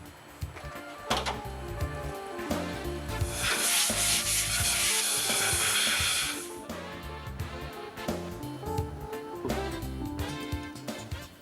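Valve seating surfaces of a fuel injector being ground with a grinding mandrel and number 500 carborundum: close, rhythmic gritty rubbing and scraping strokes, with a brighter hissing stretch in the middle, continuous throughout and with no talk.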